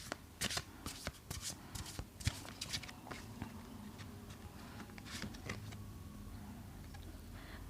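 Tarot cards are shuffled close up in a quick run of crisp riffling flicks and soft slaps, with no talking.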